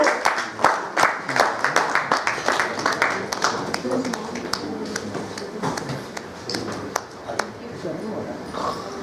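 Uneven, rhythmic clapping from a modest audience at a Lions club stage event as a guest is called up, individual hand claps standing out close by over a murmur of voices.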